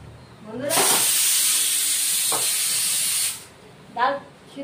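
Pressure cooker whistle shrieking loudly as steam jets out while cooking chana dal with drumsticks, a sustained hiss of about two and a half seconds followed by a brief second puff.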